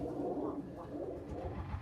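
White homing pigeons shut in a carrying box give soft, low, murmuring coos that run continuously and close by.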